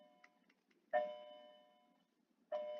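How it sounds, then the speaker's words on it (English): An electronic school bell chimes twice in a classroom, each tone striking sharply and then ringing out and fading, the two separated by a short gap and heard alone without speech. "There's our last bell."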